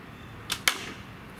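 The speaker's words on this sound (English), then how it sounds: "First, I'll be shooting at one of these cans." A homemade crossbow looses an arrow at a can: two sharp, close transients in quick succession, a snap then a hit, against quiet background.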